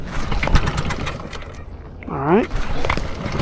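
An outboard boat motor on a solo skiff is pulled over and catches, then idles near a marsh, with someone speaking over the rumble.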